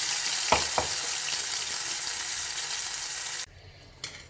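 Ginger garlic paste frying in a pan with whole spices for a palak paneer gravy, a steady, fairly loud sizzle that runs on with two small clicks early on, then drops away sharply near the end before a brief stir noise.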